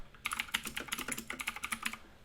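Quick, light keystrokes on a computer keyboard click in an even run of soft taps, close and fairly quiet with no voices.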